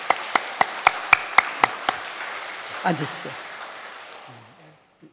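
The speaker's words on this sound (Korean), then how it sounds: "우리 박수로 이 가정을 축복합시다" A church congregation applauds with about eight sharp, evenly spaced claps that stand out clearly and then stop. A voice then speaks briefly after the clapping ends.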